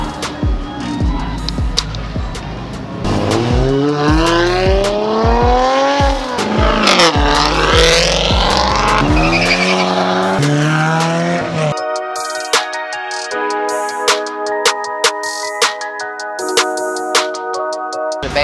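A car doing donuts, loud tire squeal and skidding with sweeping rising and falling pitch and engine revving for several seconds, then giving way to sharp clicks and a steady tonal hum.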